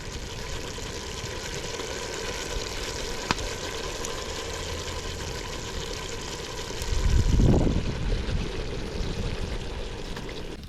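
Food fries in a pot over an outdoor fire in Jamaica, with a low steady sizzle throughout that swells briefly into a louder hiss near the end.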